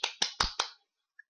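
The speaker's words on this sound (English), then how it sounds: "Clappy, big clap." Four quick, sharp claps in an even rhythm, close and crisp, followed by silence and one tiny faint click.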